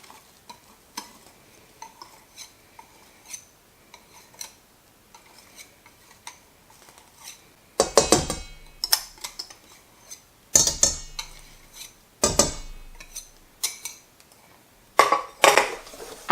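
Bika Ambon, the Indonesian honeycomb cake, gets its batter stirred after the yeast mixture goes in: faint ticking at first, then loud bursts of scraping and clinking from a utensil against the bowl, with no talking.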